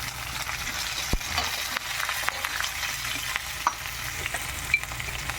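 Curry leaves and green chillies frying in a pan with onion, a steady close sizzle broken by a few sharp clicks from stirring, with no talk.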